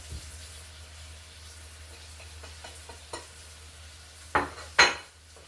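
A spoon stirs herbs, onion flakes and salt around a cooking pot, producing soft scraping and light metallic clinks at a steady pace, then two sharp, louder clanks against the pot near the end.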